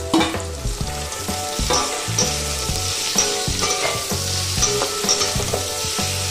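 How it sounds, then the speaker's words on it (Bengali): Prawns sizzle and fry in a pan with taro roots and potato, a steady, loud crackling hiss with frequent stirring clatter running throughout. "এবার আমি এর মধ্যে দিয়ে দিচ্ছি চিংড়ি মাছ"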